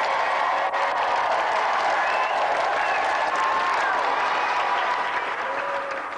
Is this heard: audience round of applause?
yes